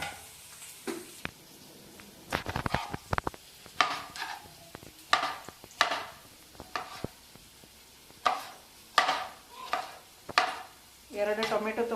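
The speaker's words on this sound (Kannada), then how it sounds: "ಟೊಮೆಟೊ ಒಂದು ಕಟ್ ಮಾಡ್ಕೊತೀನಿ" A knife chops a tomato on a board in a home kitchen, with onions frying nearby. Several bursts of quick, close, crisp cuts come in uneven clusters, and a soft sizzle runs underneath.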